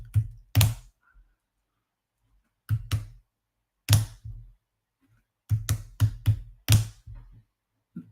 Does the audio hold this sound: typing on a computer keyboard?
yes